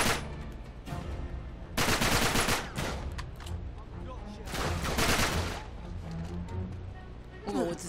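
Uzi gunfire in Uncharted 3, heard as several loud bursts of rapid automatic shots with brief pauses between them, set against game noise and spoken commentary.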